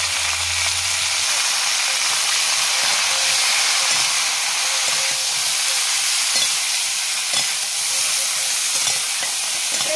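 Cauliflower frying with turmeric and coriander powder in a pan, a loud close steady sizzle and hiss with the scrape of stirring, continuous throughout with no talk.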